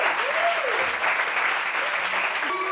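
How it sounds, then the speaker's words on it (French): Studio audience on a TV talk show claps loudly and continuously for an arriving guest, with faint whoops and voices threaded through the steady clapping. "Applaudissements pour lui."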